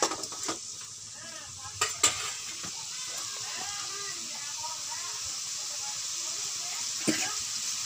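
Chicken coated in chili powder is stirred in a hot pan: a steady sizzle with scraping and clinks of a utensil against the pan, plus a few sharper knocks, while a voice talks faintly underneath.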